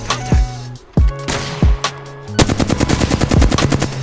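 Rapid video game gunfire from the player's weapon: a few separate heavy shots, then a fast stuttering automatic burst, loud and close with no talk.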